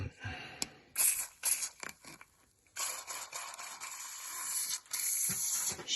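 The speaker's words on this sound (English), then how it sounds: "Spray that right round." Aerosol spray blasting onto a seized brake caliper on a classic car in short repeated bursts and longer sustained hisses, close and fairly loud, with a faint voice briefly heard.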